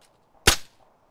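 A single sharp M16 rifle shot in DayZ: one loud, abrupt crack with a short decaying tail, surrounded by near silence.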